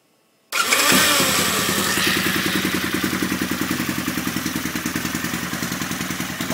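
A 1004 cc motorcycle engine with tuned programming fires up and settles into a loud, steady, close idle with a rapid even pulse and mechanical clatter.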